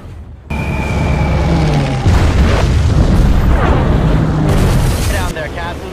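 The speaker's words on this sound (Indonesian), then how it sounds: "Kemudian mereka mulai menjatuhkan bom di wilayah industri Tokyo untuk melemahkan perekonomian kekaisaran Jepang." Bombs bursting over Tokyo's industrial district in a war film, a loud continuous roar of booming explosions and rumbling debris, with overlapping blasts throughout.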